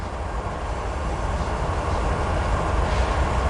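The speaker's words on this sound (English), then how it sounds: "we have an inbound freight in a Hobart right now" An inbound freight train passes at Commerce, a steady close rumble of rolling wagons with broadband rail roar that holds evenly throughout, with no voices.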